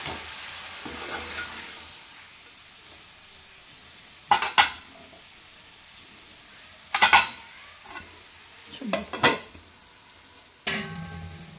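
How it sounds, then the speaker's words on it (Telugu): Fish curry with tamarind being stirred in a pot: quiet simmering hiss broken by several sharp scrapes and clinks of a spoon against metal, close and without talk. "ముక్కలు కలిసేటట్టు కలిపిస్తాం."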